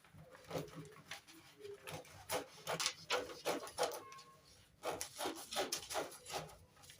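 Shears cut a paper pattern for a corset yoke dress along the shoulder slope and armhole, giving a series of close, rhythmic crisp snips and rasping slices with short pauses between them.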